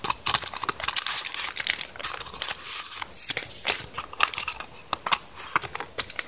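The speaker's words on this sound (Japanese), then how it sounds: "それでは、開封していきたいと思います。" Crinkly plastic and paper packaging of a Tomica Nissan Skyline GT-R R32 toy car being handled and opened, with steady close rustling and crackling in irregular bursts throughout, no talking.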